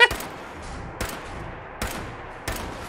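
Four distinct gunshots ring out in Fallout 4, evenly spaced roughly every second over a quiet background, each a crisp crack with a short decaying tail.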